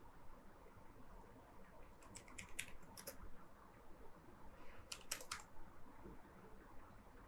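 Text being typed on a computer keyboard into a Word document, faint irregular clusters of key clicks against a quiet hiss, no talk.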